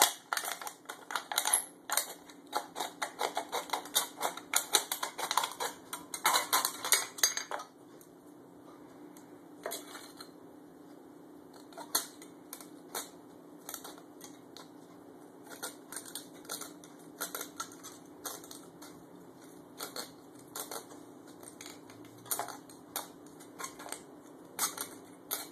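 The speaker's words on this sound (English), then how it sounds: "Go ahead and cut your second can." An aluminum pop can being cut for a homemade alcohol stove, a quick run of small crisp snipping and crinkling clicks, then sparser, quieter metallic ticks, all close and without talk.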